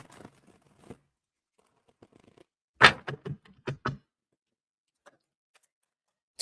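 Tarot cards are shuffled by hand in a quiet room, giving sparse soft clicks and then a cluster of crisp riffling snaps midway through, with no talking.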